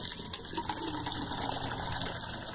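Water runs steadily from a village standpipe in a settlement in Kazakhstan, a continuous gushing and splashing hiss heard up close without voices.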